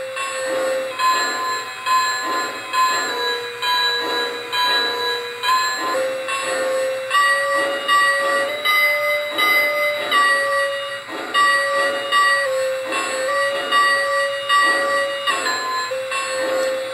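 Model train bell from a Lionel LionChief Plus Nickel Plate Road #767 locomotive, pitch shifted, clanging in a steady repeating rhythm for many seconds, close and clear with no talking.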